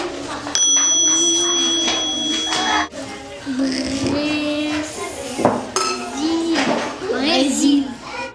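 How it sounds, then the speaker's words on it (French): Montessori tone bells being shuffled and clinked by a child in a classroom, with metallic rings and clatter heard under continuous speech and children's voices. "La petite Shaima mélange les clochettes pour Emma"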